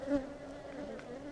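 Honeybees buzz faintly with a steady low drone inside a top bar hive with few bees present, and a brief louder hum rises near the start.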